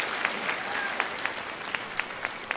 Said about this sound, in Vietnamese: một tràng pháo tay thật lớn đi quý vị để chúc mừng cho các em trong ngày hôm nay